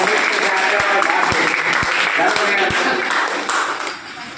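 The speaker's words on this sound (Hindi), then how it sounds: "इनके लिए ताली बजाइए" Students at a school disaster risk reduction awareness camp clap for classmates, a dense steady round of applause with a few sharper taps, fading slightly toward the end, with voices mixed in.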